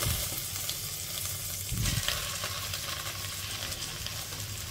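Thotakoora amaranth leaves frying in a pan over a medium flame give off a steady, fairly quiet hiss of sizzling oil, with a brief clatter of stirring near the start and again just before two seconds.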